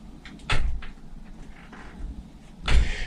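A door in an old building in Virginia City bumps and rattles as it swings open unaided, with two sharp knocks near the start and end and soft creaking between them in a quiet room.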